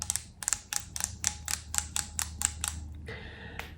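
Plastic lip gloss packaging from a Dior Lip Glow or YSL Candy Glaze tube gives a run of small, evenly spaced clicks, close and crisp in a quiet room, then a softer scrape at the end.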